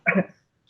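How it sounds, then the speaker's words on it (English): A person coughs twice, a short harsh burst and then a second brief cough after a pause, near and fairly loud, from someone still ill with coronavirus. "I'm still coughing"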